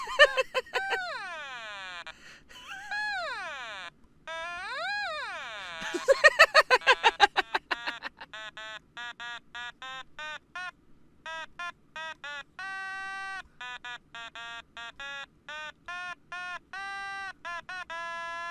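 An otamatone being played, producing wavering, nasal electronic tones that slide in pitch, first in sweeping glides and then in short stepped notes with brief gaps, close and clear, alone without talk.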